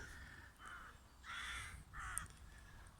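A flock of crows perched in a tree gives several loud, harsh caws in separate bursts, some overlapping, with no talking.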